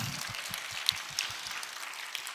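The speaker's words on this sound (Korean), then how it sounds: "우리를 위대하게 사용하실 주님 앞에 다시 뜨거운 영의 박수를 합니다" Church congregation applauding during a Korean worship service, a steady wash of many hands clapping, moderately quiet and continuous with a few sharper claps standing out, no talk over it.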